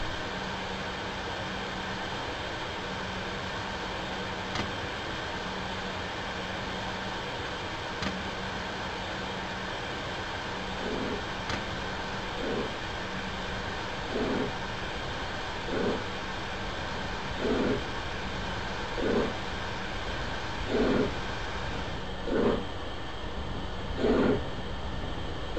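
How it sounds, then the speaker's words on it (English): A steam locomotive in Microsoft Train Simulator pulls away from a standstill, with a low steady rumble and chuffs that grow louder and more regular as it speeds up. "To move the train, pull the regulator towards you until the train starts moving."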